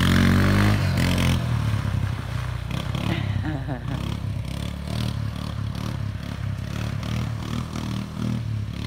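A four-wheeler ATV engine roars and revs, loud and close, with rattling and scraping from the ride and a voice occasionally heard over the motor.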